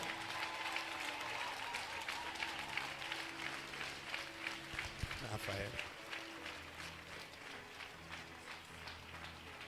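A congregation at a church service applauds steadily throughout, a dense wash of clapping from many hands with voices and music mixed in beneath.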